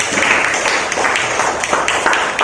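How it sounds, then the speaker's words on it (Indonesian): A classroom of students applauds a group in an economics lesson, with dense, steady clapping that fills the room for the whole stretch at a fairly even level. "kasih tepuk tangan dulu untuk kelompok kinestetik"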